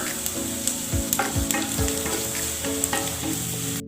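A teaspoon of cumin seeds with ginger crackles in hot coconut oil, a bright continuous sizzle punctuated by several close, hard knocks of a spoon against the pan. No speech.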